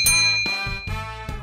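A bright ringing notification bell chimes three times in quick succession, loud and alone, each ding ringing out briefly before the next strike.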